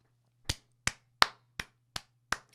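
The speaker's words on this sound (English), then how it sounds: "that's my hands clapping" Six sharp hand claps spaced about a third of a second apart, close and distinct, over a faint low steady hum.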